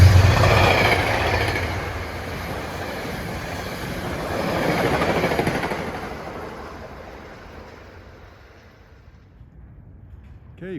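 A Metro-North commuter train, number 847 from Grand Central to Poughkeepsie, runs along the Hudson River at Ardsley-on-Hudson, its broad rumble loud at first, swelling briefly, then fading into the distance.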